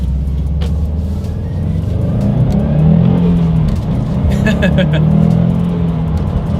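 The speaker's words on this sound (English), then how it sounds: "let's go ahead and do a quick little acceleration in this one, and let's see how quickly we can get the new 2020 Subaru WRX STI here up to speed" A 2020 Subaru WRX STI with a manual gearbox accelerates from inside the cabin, its engine a loud, steady, rising rumble with a brief shift-like change midway.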